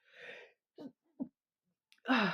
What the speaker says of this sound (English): Just sneezing, or you know, one of them weird sneezes where you don't actually sneeze.